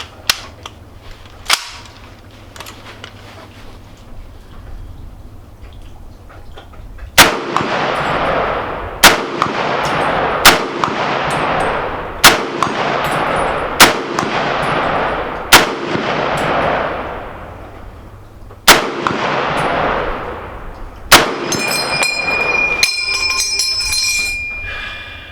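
Loud, sharp rifle shots from an M1 Garand fired at an outdoor range on a rainy day, about a dozen cracks spaced one to three seconds apart with ringing decay between them, and a metallic ping near the end.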